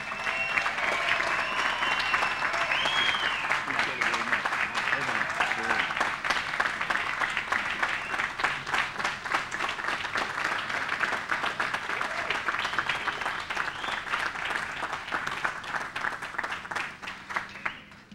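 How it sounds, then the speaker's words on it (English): Sustained applause from a large crowd greeting the son and uncle of Alfred E. Zampa at a ceremony honoring ironworkers and construction workers, steady dense clapping that holds for the whole stretch without a pause. "Let's give him a big round of applause"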